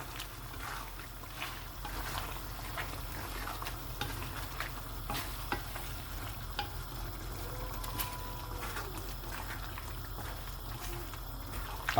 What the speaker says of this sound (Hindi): मिक्स करूँगा अच्छी तरह।